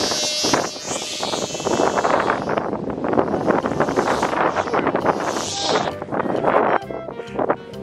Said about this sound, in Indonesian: anginnya kebanteran